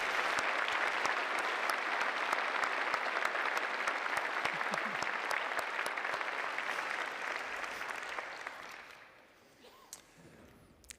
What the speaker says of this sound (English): Let's have a round of applause for our impressive alumni awardees.